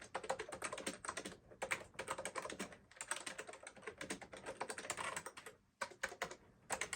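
Fast, crisp clicking of keys on a small mechanical keyboard, typed close up in steady bursts with brief pauses.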